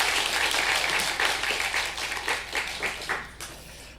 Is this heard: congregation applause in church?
yes